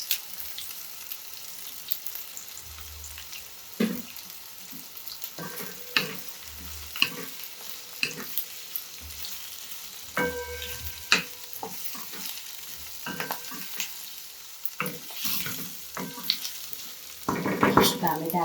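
Two to three medium onions, chopped, sizzle steadily in a pan for a restaurant-style spinach soup, with repeated clattering stirs of a utensil over the continuous frying hiss and no talking.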